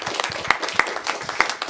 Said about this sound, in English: So I just want to give her a nice round of applause.